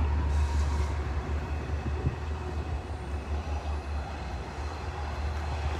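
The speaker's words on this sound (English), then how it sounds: "Train going by on the bridge over there." A steady low rumble of a train rolling over a bridge at a distance near the Shinnecock Locks, continuous throughout with a faint rattling hiss over it.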